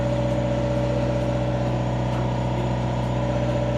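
Inboard engine of a Gulfstar 41 sailboat motoring on the Gulf of Mexico, a loud, steady diesel-like drone with a rapid even throb, close by and unbroken.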